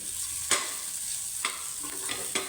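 Peanuts frying in ghee give a gentle, steady sizzle with three or four sharp scrapes of a spoon stirring the pan, close by and without any talking.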